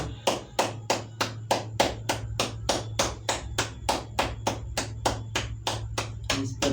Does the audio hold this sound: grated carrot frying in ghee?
no